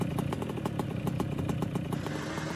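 A Yamaha Banshee two-stroke ATV engine in a VR off-road video game revs with a rapid, rattly, uneven putter, its regular firing pulses clattering steadily at moderate volume throughout.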